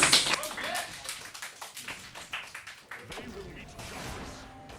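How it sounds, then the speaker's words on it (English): A burst of clapping and cheering at a Heroes of the Storm speedrun marathon fades into scattered claps, with a voice talking over it. "Let's give a round of applause to Jasper"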